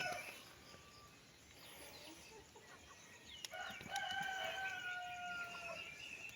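Chickens cluck and a rooster crows in a rural provincial yard, with calls rising more clearly in the second half over steady outdoor background noise.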